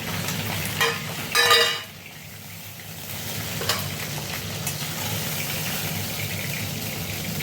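Fish sizzling as it fries in hot oil, a steady dense crackle throughout with a brief louder burst of spattering near the start.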